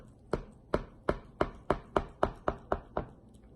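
A knife cuts through a frozen carrot cheese dessert, a Tamil-style sweet set firm in the freezer, making about nine crisp, close chopping strokes in a steady rhythm with no talking.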